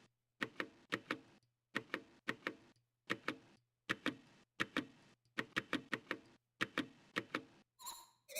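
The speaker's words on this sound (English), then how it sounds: "That click sound is so pleasant." Arturia keyboard keys click in crisp bursts of quick taps, with short pauses between groups, close and clear over a low steady hum.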